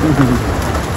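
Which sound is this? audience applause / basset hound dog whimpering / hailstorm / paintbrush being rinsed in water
hailstorm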